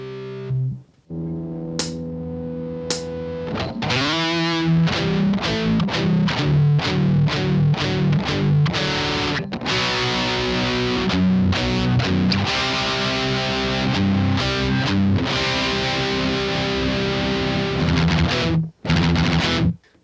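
Distorted electric guitar plays a phrase with fast palm-muted picking of low open E pedal tones and power chords in a steady driving rhythm, loud and close, ending on a low held chord.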